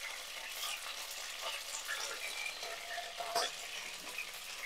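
Chicken curry sizzling in oil with plenty of curry leaves crackles and spatters, a lively close fry with scattered sharp pops that runs throughout at a modest level.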